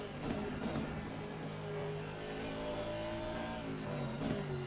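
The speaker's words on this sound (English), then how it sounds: "Especially love the sound of that Jaguar." Jaguar race car engine in a racing video game endurance race at Suzuka GP, a steady sustained engine drone with faint higher whine, moderately distant and fairly quiet, no talk over it.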